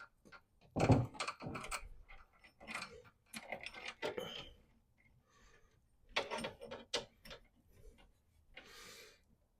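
Chain being fitted onto an ATV skid steer transmission and jack shaft: intermittent metallic clinks, rattles and knocks in uneven bursts, close by, with quiet pauses between.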